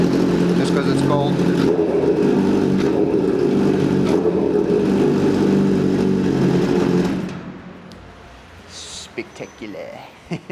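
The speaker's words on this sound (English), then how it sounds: "Just gonna give it a little rev, just because it's cold." Kawasaki ZX-10R motorcycle with a full titanium exhaust, revved while still cold: a loud, sustained engine roar for about seven seconds, then it drops away to a quieter idle with a few faint sounds.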